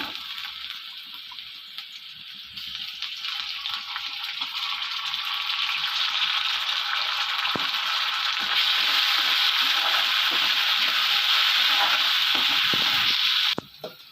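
Chicken frying in a pan with ginger garlic paste added, a steady close sizzle that swells louder partway through and holds dense and bright until it cuts off near the end, with no talking.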